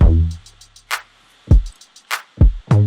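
A sparse hip-hop drum beat of punchy booming kicks and crisp hand-clap or stomp hits in a steady pattern, loud and dry with no voices.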